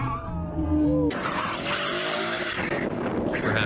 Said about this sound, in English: Perhaps every car encounters skidding here.